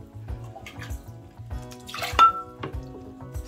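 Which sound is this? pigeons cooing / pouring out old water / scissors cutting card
pouring out old water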